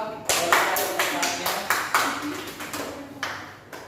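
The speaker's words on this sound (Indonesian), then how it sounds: "Tepuk tangan dulu untuk kelompok 2" A classroom of students claps for a discussion group, a short burst of loosely rhythmic, fairly close handclaps that quickly tapers off.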